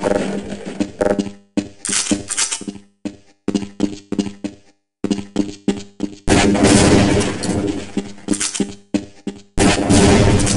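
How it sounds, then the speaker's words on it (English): Weapon fire at a target range in the video game Half-Life: Blue Shift, loud clusters of rapid automatic bursts broken by short silences, with heavier sustained volleys toward the end, close and alone without talk. "You'll get a chance to fire your weapon, reload, and fire the attached grenade launcher."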